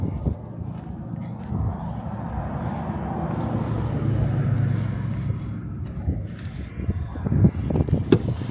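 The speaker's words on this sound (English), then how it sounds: "let's go inside the cabin and get away from some of the road noise." Road traffic rumbles around a parked 2025 Ram 1500 RHO pickup outdoors, a steady low wash of passing vehicles with a few nearby knocks and scrapes toward the end.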